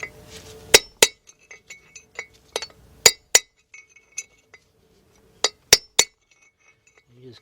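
A hammer striking a chisel to drive out a front wheel bearing race on a 1996 Ford F150 pickup, sharp metallic clinks in irregular bursts, some loud and close, with quiet gaps between.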